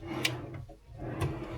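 Wooden drawer sliding open and shut in a room at the Hotel Grand Chancellor Adelaide, two short scraping rubs close by with faint room hum between them.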